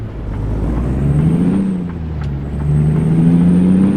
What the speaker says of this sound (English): Y'all hear the brakes?